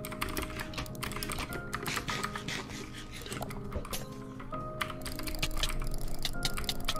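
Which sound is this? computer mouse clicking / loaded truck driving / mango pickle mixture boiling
computer mouse clicking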